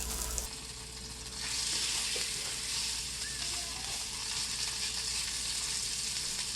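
Pork chops fry in oil in a pan, a steady close sizzle and crackle that swells after a brief start and continues evenly throughout.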